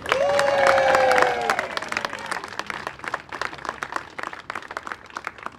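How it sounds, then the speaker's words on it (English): Audience applause at a groundbreaking ceremony for the new Upper Eliot School in Boston, with a crowd clapping steadily, loudest at first, then tapering into scattered claps. "Can I have a round of applause for that?"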